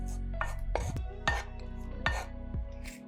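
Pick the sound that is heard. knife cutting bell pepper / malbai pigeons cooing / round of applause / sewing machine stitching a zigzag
knife cutting bell pepper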